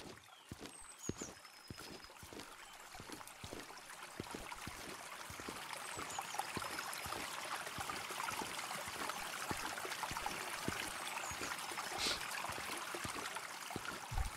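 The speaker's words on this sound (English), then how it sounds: "Here's the bridge over the little creek." Gentle flowing creek water near a bridge in the survival game Jaws of Extinction, a steady soft trickle and wash that swells slightly partway through, with faint scattered clicks and ambient tones.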